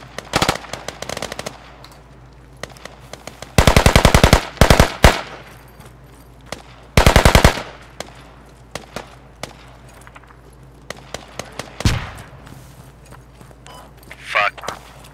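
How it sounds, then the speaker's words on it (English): AK rifle fire in a squad-based video game, with several loud close full-auto bursts and scattered single shots between quieter stretches, while players talk over the fighting. "That's an AK."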